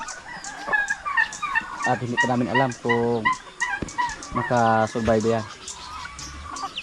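Chickens on a small farm clucking and crowing in several bursts across a few seconds, fairly close, with people talking over and between the calls.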